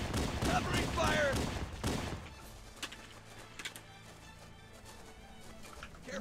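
Gunfire in the video game Halo: Combat Evolved, dense rapid shots under loud shouting voices for the first two seconds, then sparse quieter pops and clicks.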